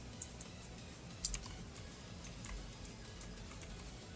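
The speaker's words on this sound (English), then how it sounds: "I'll just type it out." Typing on a computer keyboard, with scattered light key clicks at an irregular pace and one slightly louder cluster, heard alone over a faint background hum.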